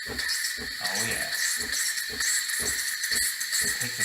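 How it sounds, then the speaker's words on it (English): Steam wand of a Breville Cafe Roma espresso machine hissing loudly and continuously up close, a bright steady jet with faint gurgling pulses underneath, no talking. "So you got some serious steam there."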